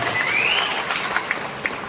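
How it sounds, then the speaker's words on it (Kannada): Steady applause from a crowd at a political rally, a dense wash of clapping with a few sharper claps standing out, fairly even throughout. "ನಾವೆಲ್ಲರೂ ಈ ಸಂದರ್ಭದಲ್ಲಿ ಮೋದಿಜಿ ಅವರಿಗೆ ದೊಡ್ಡ ಮಟ್ಟಕ್ಕೆ ಚಪ್ಪಾಳೆ ಕೊಡ್ಬೇಕಂತ"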